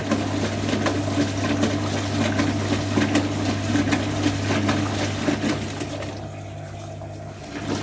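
Zanussi TJS1397W Jetsystem Excel 1250 top-loading washing machine running a rinse, with steady sloshing water and a constant low motor hum that drops off toward the end.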